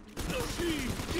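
A gun firing with recoil in the BioShock 2 video game, a brief burst of rapid shots with mechanical rattling, loud and close.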